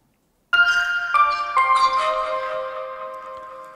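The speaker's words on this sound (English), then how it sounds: "like a cute music box" A synthesized music box patch on a DRC synth chimes after a short silence: three bright plucked notes struck in sequence, each ringing and slowly decaying into a soft shimmering tail.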